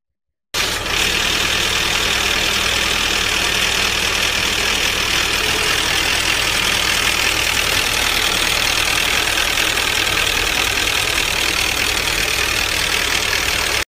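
A car engine idles steadily and loudly up close, with a fast, even valve ticking running through its hum, from a broken valve spring or a worn camshaft cam.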